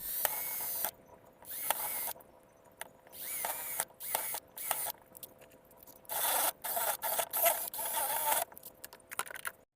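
A power drill bores holes in PVC pipe while repairing a broken PVC ball valve, giving intermittent whining, scraping bursts of varying length with short pauses between them, close up and without speech.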